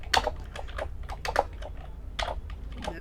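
Rapid typing on a computer keyboard, with clusters of crisp key clicks in uneven bursts, close and fairly quiet, with no talking.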